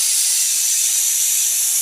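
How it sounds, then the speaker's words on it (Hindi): A pressure cooker on a village kitchen stove releases a loud, continuous, sharp hiss of escaping steam, steady and close throughout. "हमारी कुकर ने भी दे दी है सीटी"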